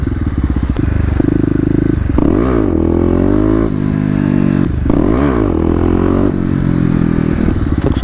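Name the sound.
KLX250 motorcycle riding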